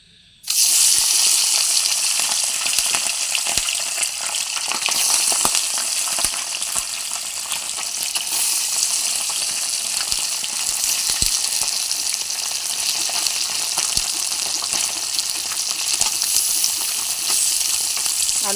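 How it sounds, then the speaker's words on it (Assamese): Fish pieces frying in hot oil in a kadai for an Assamese fish curry, a loud, steady, dense sizzle and spatter that starts abruptly and carries on without talk throughout. "কেৰাহীত তেল গৰম হৈ গৈছে, তেল দি দিছিলোঁ। এতিয়া আমি দি দিম মাছখিনি।"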